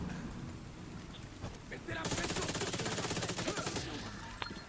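Sustained automatic gunfire in The Division 2, rattling bursts that swell sharply halfway through into a dense, loud fusillade, with someone speaking French underneath.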